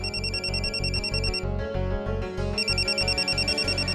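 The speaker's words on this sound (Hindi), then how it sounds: "मोहन का फोन है, बात कर बेटा।" A telephone rings in an electronic ringtone pattern, a steady repeating pulse with bright high tones that pause briefly mid-way and resume, loud and close with no talking.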